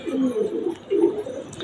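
Madrasi pigeons coo softly and fairly close by, in two rolling bursts of low, throaty calls.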